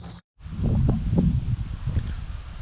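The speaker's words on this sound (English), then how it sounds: "For some reason, it just started getting windy." Gusty wind sweeps through grass and leaves outdoors, a sustained rustling roar after a brief silent gap at the start, buffeting the microphone with uneven swells.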